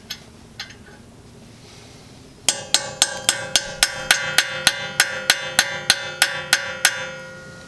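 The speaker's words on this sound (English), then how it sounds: "I'm gonna use a hammer to try to tap it in a little more." Hammer tapping a 6mm hex bit into a shallow brake rotor screw on a BMW E36 Z3 M Roadster: a couple of light taps, then a steady run of about fifteen sharp, ringing metallic strikes, close and loud.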